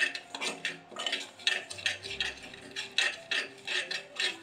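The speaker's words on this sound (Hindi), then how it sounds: "सबसे पहले मैं दलिया को सस्पेन में बना रही हूँ।" A spoon stirring dalia (broken wheat) in a metal saucepan, scraping and clinking in a quick steady rhythm close by, with a faint low rumble partway through and no talking.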